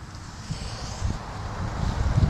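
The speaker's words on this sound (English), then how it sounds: "Probably getting lots of wind noise here right now. It's windy out." Gusty outdoor wind buffets the microphone in a steady low rumble that swells a little toward the end, with no voices.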